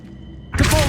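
In the Hogwarts Legacy video game, an Accio summoning spell is cast: after a quiet moment a sudden bright whooshing burst swells up and holds, loud and near, with a faint tonal shimmer.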